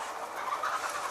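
Hens on a free-range egg farm cluck and murmur in a faint, continuous chatter of bird calls.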